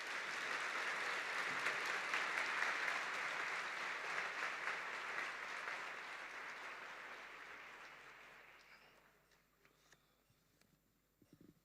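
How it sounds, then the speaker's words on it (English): Warm audience applause at a university vice-chancellor's official welcome ceremony, fairly faint and distant, holding steady for several seconds before thinning into scattered claps and fading out near the end. "Please give a warm round of applause for Professor Crouch."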